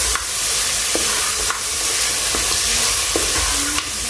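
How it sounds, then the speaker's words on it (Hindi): Mutton frying in a pan with green chilies and black pepper, giving a steady loud sizzle with occasional stirring scrapes and clicks throughout, no voices. "और 1 टेबलस्पून इसके अंदर काली मिर्च शामिल कर देंगे और इसको 2 मिनट के लिए फिर भूनेंगे"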